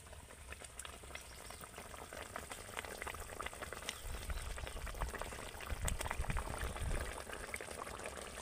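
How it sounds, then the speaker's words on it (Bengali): Fried fish pieces go into a boiling curry broth in a kitchen, a steady bubbling simmer with light sizzle and liquid agitation that swells midway, continuous and close, with no talking. "ঝোল ফুটে গেছে, এবার আমি ঝোলের মধ্যে ভেজে রাখা মাছগুলোকে দিয়ে দেব।"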